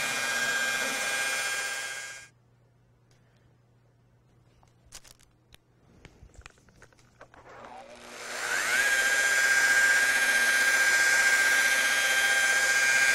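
Power polisher buffing a car door panel with swirl remover polish, a loud steady whine that stops, gives way to a quiet stretch with light handling clicks, then spins back up to a sustained high hum.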